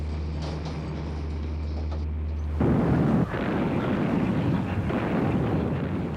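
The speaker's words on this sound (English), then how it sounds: "Both sides were engaged in heavy gunfire and complicated maneuvering of their ships." Battleship gunfire at the Battle of Jutland between British and German fleets: a deep boom breaks over a low rumble, followed by a sustained roaring wash of blasts and echoing explosions.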